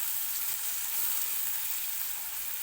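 Chopped tomato sizzling steadily in hot oil, a continuous bright frying hiss held at an even level from start to finish with no voices over it.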